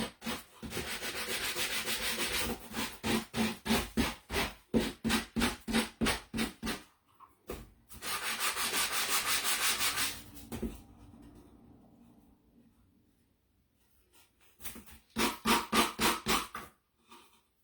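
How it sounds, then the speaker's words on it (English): A coarse Dollar Tree sanding block rubbed back and forth on a surface: brisk rhythmic rasping strokes in bursts, a longer continuous scrub in the middle, pauses of near silence, then another quick run of strokes, close and alone. "Some of the sanding blocks from Dollar Tree are not bad, but these really coarse ones, they just fall apart."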